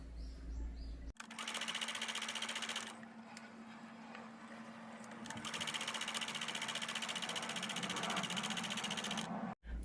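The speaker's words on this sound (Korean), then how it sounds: "끈 겉장에 브림을 놓고 끈 겉장을 다시 덮어서 한 번에 박음질 해주도록 하겠습니다" A sewing machine stitches a fabric strap onto a hat brim, running in fast, even bursts with a brief pause between runs, close and steady, then stopping at the end.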